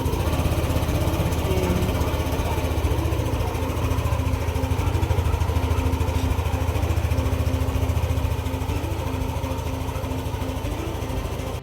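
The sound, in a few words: motorcycle engine started and running after magneto repair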